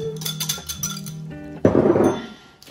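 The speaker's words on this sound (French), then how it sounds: "on va mélanger le sucre" Cane sugar being mixed in a bowl for an apple cake, with a run of close, bright clinks and taps of a utensil against the dish, ending in a louder scraping swirl.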